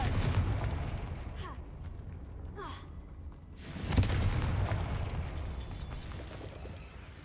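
Confringo blasting spell in Hogwarts Legacy: a whooshing burst swelling into a muffled boom midway, over low rumbling game ambience, with a couple of faint earlier swishes.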